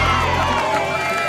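A loud crowd claps, cheers and shouts together at a Star Citizen livestream, an energetic burst of whooping voices filling the space.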